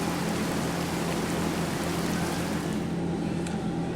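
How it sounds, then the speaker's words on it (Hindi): Steady rain falls in a continuous, even hiss of broadband noise, moderately loud and unbroken, with no voices. "वर्षा हुई"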